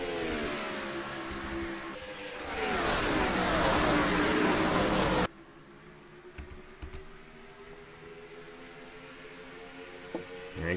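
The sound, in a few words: video game race truck engines at Rockingham Speedway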